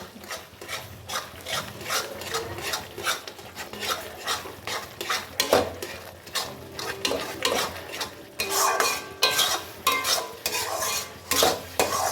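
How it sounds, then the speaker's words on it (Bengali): Masala for a mutton curry being stirred and fried in a pan, with repeated scraping strokes of a metal spoon against the pot over a steady sizzle, close and clear with no talk. "মশলাটা কষতে থাকছি"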